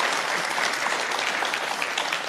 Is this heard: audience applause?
yes